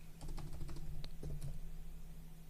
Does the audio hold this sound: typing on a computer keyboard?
yes